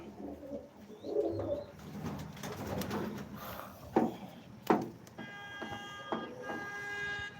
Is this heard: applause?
no